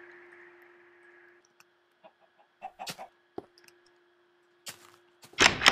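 Chickens clucking in Minecraft, a handful of short, scattered clucks and blips over a faint steady game tone, ending in a louder noisy burst.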